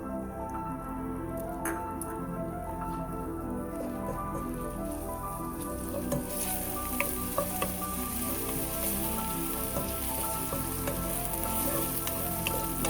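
Garlic, pepper, ginger, kaffir lime leaf, galangal and lemongrass hit hot oil for a squirrel stew, a dense steady sizzle with faint stirring scrapes and clinks running throughout.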